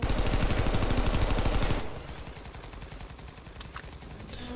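Dense automatic gunfire in the training camp of the video game PlanetSide 2, loud and continuous, then cutting to quieter scattered rapid shots.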